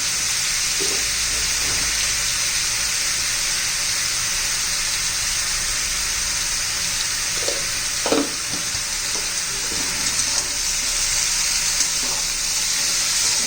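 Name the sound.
ridge gourd sautéing in oil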